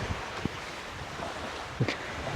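Sea waves wash steadily at a beach resort in Pantukan, Davao de Oro, giving a soft, continuous surf hiss mixed with wind noise and a few faint knocks, fairly quiet and with no talking.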